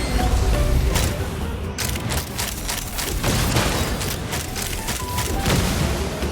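Continuous rapid gunfire volleys and booming blasts from a Linnea Quest video game battle, dense and loud throughout with repeated sharp bursts and no pauses.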